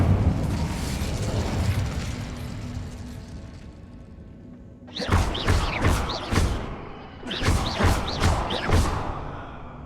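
Fiery spell blasts in Hogwarts Legacy, with a run of sharp bursts and booms arriving in two rapid clusters after a few seconds of low game ambience, loud and close.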